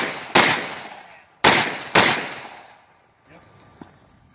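Rifle shots at an outdoor close-quarters rifle match, three loud sharp cracks in quick succession, each trailing off in a short echoing decay, followed by quieter shuffling.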